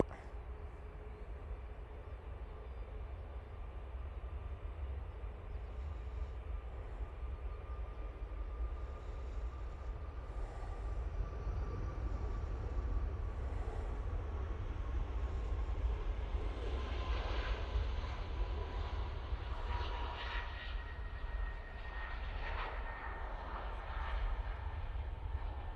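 Ryanair jet departing Manchester Airport for Shannon, a faint distant engine roar that slowly swells and rises in pitch over a low background rumble, with no voices.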